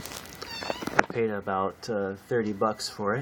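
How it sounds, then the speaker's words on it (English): A house cat meows several times in the background indoors, short repeated calls partly under a man's speech nearby. "that's my cat meowing in the background"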